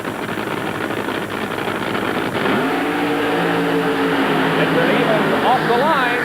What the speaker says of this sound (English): Quarter final round elimination Pro Funny cars.